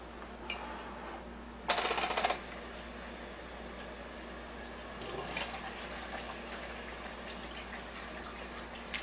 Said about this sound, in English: the hose, the acid hose, is actually filling up the cup